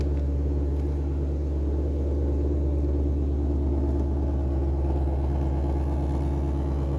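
A 2022 Ford Mustang Shelby GT500 Heritage Edition Track Pack engine idles with a deep, steady, loud rumble throughout, no voices present.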